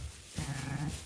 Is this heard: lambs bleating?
yes